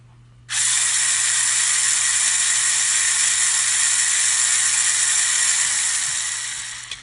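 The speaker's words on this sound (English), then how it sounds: "Here we are with the motor again." A LEGO EV3 robot motor starts abruptly after a short silence and then whirs with a bright, buzzing, ratchet-like drone, steady and close, easing off slightly at the end.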